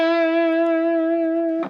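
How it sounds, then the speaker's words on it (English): One sustained electric guitar note rings with a subtle wavering vibrato going above and below the initial pitch, then stops with a short scrape of noise. "above and also below the initial pitch."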